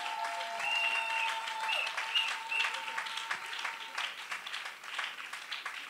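Sustained applause from a church congregation, steady and fairly loud throughout, with a few faint tonal sounds above the clapping.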